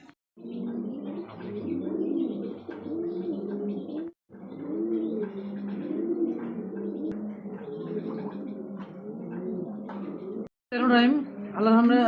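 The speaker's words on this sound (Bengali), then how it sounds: "চলেন এক এক করে কবুতর দেখাই ইনশাআল্লাহ" Fancy Danish pigeons coo close by in a loft, with repeated low rolling coos and a few brief gaps, and a person talking over them near the end.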